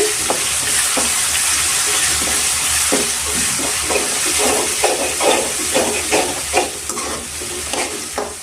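Grated raw mango fries in oil with green chillies and peanuts for mango rice, a steady, close sizzling hiss with rhythmic stirring scrapes growing more frequent toward the end.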